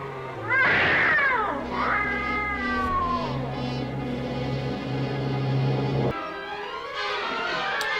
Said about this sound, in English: And the cat is right on him.